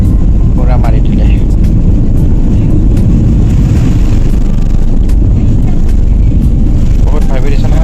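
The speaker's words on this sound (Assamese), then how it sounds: "পুৰা প্লেনখন ভাইব্ৰেশ্যন হৈ যায় ওপৰ পিনে উৰি থকা সময়খিনি" An airliner on a Guwahati to Delhi flight takes off with a loud, constant engine roar and rumbling cabin vibration heard from inside, steady throughout, with a voice speaking briefly over it.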